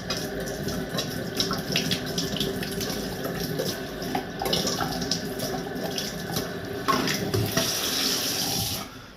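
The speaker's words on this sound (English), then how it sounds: "First, I will use water to wash the plunger" Tap water runs into a sink while a syringe plunger is rinsed under the stream, a steady close splashing flow with small shifts as the object moves through the water, no voices.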